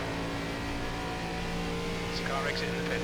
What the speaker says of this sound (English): It's a car exiting the pits.